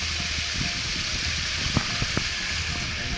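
Creek water rushes steadily during a trail crossing on a John Muir Trail thru-hike, a dense broadband wash close to the microphone with a few brief splashes and clicks.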